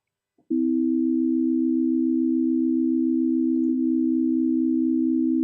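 A synth holds a single pure, steady electronic tone for several seconds, set up for comparing an equal-temperament interval with a just-intonation one. It is smooth and unwavering, with only a faint click partway through, and no voice.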